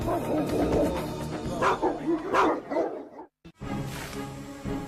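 War dogs barking in a Roman military setting: a loud, dense run of repeated barks and yips close by, breaking off briefly near the end before resuming.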